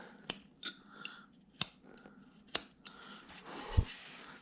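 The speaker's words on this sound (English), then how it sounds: "Then I'm gonna enhance that with a knife cut, just to deepen it up a little bit." Sharp clipping at the hairline during a haircut: a series of crisp, irregular snips close to the microphone, spaced roughly half a second apart, with no talking.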